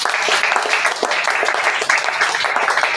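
A church congregation applauds to acclaim the Lord, their dense, loud clapping steady throughout with no pause.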